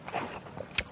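A single crisp bite into a fresh, juicy apple from a Hamyang orchard, a short crunch followed by a sharper snap near the end, close and faint with no talking.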